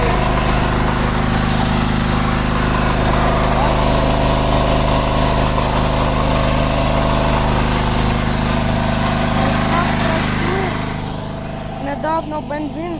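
A portable electric generator runs during a power cut, a loud steady engine drone close by that continues throughout and eases slightly near the end, with voices talking faintly over it.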